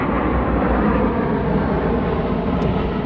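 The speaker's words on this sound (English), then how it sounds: "so that's a southwestern plane going by" A Southwest Airlines airplane passes overhead near an airport, giving a loud, steady, broad jet roar that holds throughout with no break.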